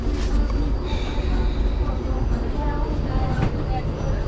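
Kanchanjungha Express train running after leaving Rampurhat Junction, heard from inside the coach as a loud, continuous low rumble with faint squeals above, steady and close.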